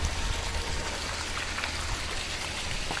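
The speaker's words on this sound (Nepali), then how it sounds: "नबसौँ, पानी पर्ला जस्तो छ है। पानी पर्छ जाउँ।" Rain falls steadily outdoors near a river confluence in Nepal, a dense, even patter of drops on surfaces that stays constant and fairly close throughout, with no talking.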